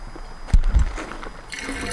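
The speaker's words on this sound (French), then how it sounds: "On réactive le drain" A camping washing machine drains its water, making a brief close gurgle and a soft, steady trickle.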